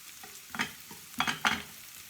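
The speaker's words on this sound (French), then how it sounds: "on va laisser les oignons griller un peu" Onions with ginger and garlic fry in a pan for a Thai curry, a steady low sizzle broken by three close stirring scrapes, each a brief surge of crackle.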